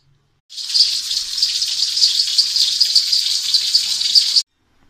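A pot of spiced black chickpea curry with about 2.5 cups of water set to cook, giving a steady, close bubbling and hissing simmer that starts abruptly and runs for about four seconds, then stops.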